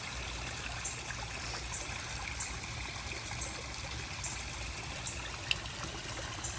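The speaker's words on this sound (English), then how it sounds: "It's raining." Rain falling on a koi pond outdoors makes a steady, even hiss of water that continues without a break, with no voices.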